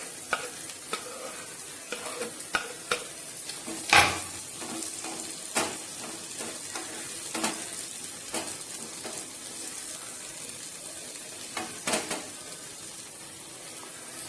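Tomatoes are stirred into a sizzling sambar mixture in a pan, with repeated spatula scrapes and knocks against the metal over a soft constant fry, one louder clank standing out, no speech.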